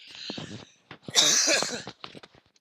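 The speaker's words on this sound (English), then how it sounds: "I'm starting to get a cough again" A person coughs in a few short bursts, close by, with a heavier harsh cough in the middle and quieter hacks after.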